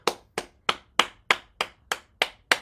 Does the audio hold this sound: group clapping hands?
yes